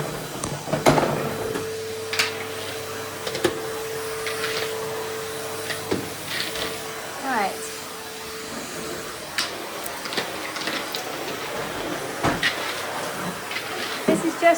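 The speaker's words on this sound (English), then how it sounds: "This is just a real quick speed vacuum." A vacuum cleaner running during a quick kitchen cleaning, its steady motor drone continuing throughout with bumps and knocks of the nozzle, while someone speaks briefly over it.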